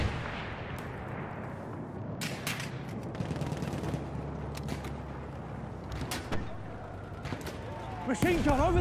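Battlefield 1 Conquest battle gunfire: rapid crackling bursts and booming shots recur through a dense wash of distant battle noise, with players talking over it.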